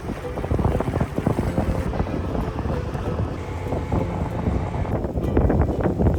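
A sailboat motors along a canal in the Netherlands toward IJmuiden against a headwind. Its low engine drone runs constantly under heavy, gusting wind buffeting the microphone.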